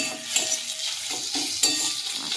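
Garlic paste frying with browned onions in a pan over low heat, stirred with a few scraping strokes over a steady close sizzle; no voices.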